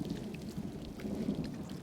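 A thunderstorm with rain arriving over the desert: low, distant thunder rumbles softly beneath a faint, steady patter of rain, quiet and unbroken throughout.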